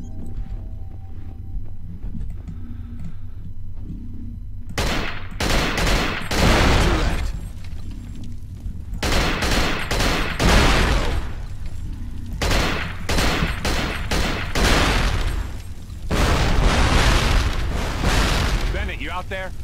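Gunfire while shooting enemies in the video game Cold Fear: repeated loud, booming bursts of shots in rapid clusters, with a person talking between and over the volleys.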